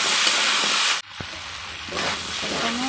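Young pumpkin and potato are stirred and sautéed in a pan, a continuous close sizzle that cuts out suddenly for a moment with a single clank, then resumes more softly as stirring goes on.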